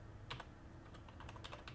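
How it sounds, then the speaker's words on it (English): Rapid clicking of computer keyboard keys, a quick burst of several strokes followed by scattered keypresses, close and fairly quiet over a low steady hum. "More typing."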